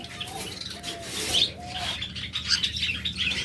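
Caged pet lovebirds and budgerigars chirp and tweet in a busy chorus of short, bright calls with a few louder squeaks, close by and without speech.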